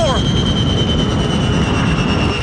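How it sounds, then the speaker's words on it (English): Airliner jet engines roar steadily with a high whine as they flame out and begin shutting down, loud and continuous throughout. "The passengers can hear the sound of the engines beginning to shut down."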